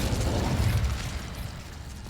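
A fire spell, Incendio, is cast in Hogwarts Legacy, giving a loud, rumbling whoosh-burst that swells for about a second and then fades into a lower roar.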